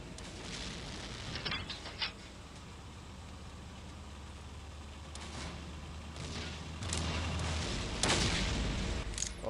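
The main gun of a Soviet T-80 tank fires in a tank combat video game. Several heavy booms come at irregular intervals over a steady engine rumble and background noise.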